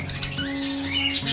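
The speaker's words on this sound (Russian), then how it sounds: "вот эти вот неразлучники розовощеки" Rosy-faced lovebirds let out short, harsh squawks and chirps up close, a couple of quick calls at the start and end over a steady low hum.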